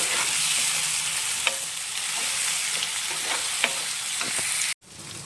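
Chopped onions for pav bhaji fry over a medium flame, giving a steady close sizzle with occasional soft clicks of stirring, then a brief cut near the end before the sizzle resumes.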